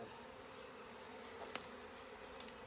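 Honey bees hum in a steady, faint, even drone around a hive while a nuc is transferred into a short long hive, with no talking.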